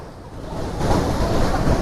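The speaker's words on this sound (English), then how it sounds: "My hair, it's too windy" Strong wind and crashing surf on a beach in India make a loud, broad, continuous roar that swells slightly over this brief stretch, with no voices.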